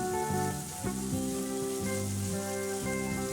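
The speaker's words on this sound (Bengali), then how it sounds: "একটি কড়াই নিয়েছি তাতে অল্প সামান্য তেল দিয়ে দিয়েছি ও দিয়েছি আদা বাটা" Ginger paste frying in a little oil in a wok gives a soft, continuous sizzle with crackling pops, heard over steady tonal humming that sounds like background music. Nobody speaks.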